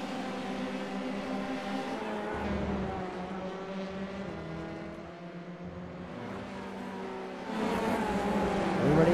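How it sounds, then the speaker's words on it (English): F3 open-wheel race cars in a sim racing game at Donington Park, running side by side in a drag race to the line: engines howl with steady, shifting pitch, and a louder engine swells in near the end. "Side-by-side drag race here in Donington Park."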